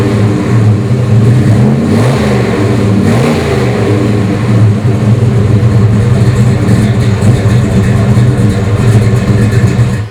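A 1970 Chevelle SS454 big-block V8 idles loud and close with a rough, lopey rumble, and its pitch rises and falls in a couple of light revs early on.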